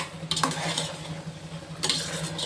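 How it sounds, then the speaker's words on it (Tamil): Vegetables coated with curry masala powder being stirred for vegetable biryani, a few soft scrapes and clinks of a spoon in the pan over a faint sizzle, close but quiet. "போட்டு எல்லாத்தையுமே நல்லா கிளறி விட்டுக்குவோம்"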